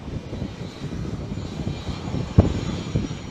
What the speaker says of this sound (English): The X-47B is a tailless unmanned aircraft with a wingspan of 62